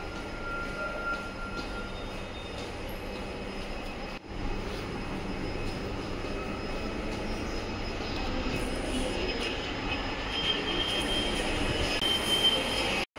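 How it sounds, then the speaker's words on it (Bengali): Metro train at a Kolkata metro station, a continuous loud rumble of rolling wheels and carriages with rising high squeal and hum toward the end, no talk. "অ্যান্ড ফাইনালি আমি মেট্রো স্টেশনে এসে গেছি আর যাচ্ছি মেট্রোর দিকে।"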